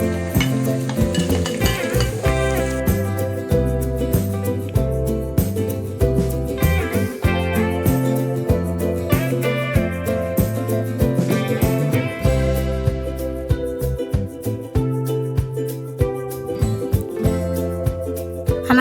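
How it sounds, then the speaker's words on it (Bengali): Rice flour pitha deep-fry in hot oil with a continuous sizzle and occasional stirring clinks, set against steady tonal background music. "আর একই রকম ভাবে আমি বাকি পিঠাগুলো ভেজে নেব।"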